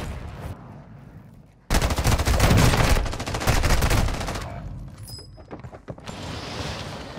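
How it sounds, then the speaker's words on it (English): Sustained loud automatic gunfire in Warzone 2.0, dense rapid bursts roaring for several seconds, then a pause and a few scattered shots and clanks at a distance. "Taking effective fire."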